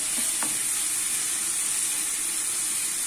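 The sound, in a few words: stirring and frying green beans in a pan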